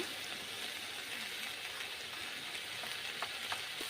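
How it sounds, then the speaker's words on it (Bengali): Chopped gima greens fry gently in a pan, giving a soft, steady sizzle with faint crackles and a few light pops, close and continuous with no voices. "ধুয়ে কেটে রেখে রাখা ডিমের শাকটা একটু আলতো করে ভেজে ভেজে নিয়ে"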